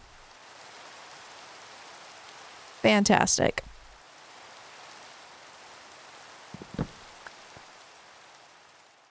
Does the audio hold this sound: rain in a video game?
yes